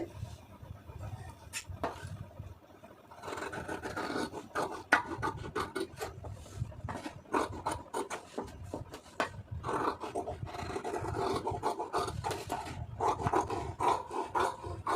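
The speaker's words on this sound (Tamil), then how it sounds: "இதை அப்படியே கட் பண்ணிடலாம்" Scissors cut through blouse fabric up close: repeated quiet snips and rasping slides in an irregular rhythm, faint but continuous, with no voices.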